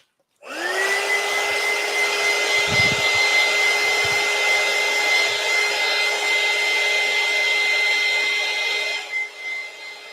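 A hair dryer blows over fresh paint in one loud, close, continuous whir with a steady whine, starting abruptly and running for several seconds before cutting off near the end, with no talking.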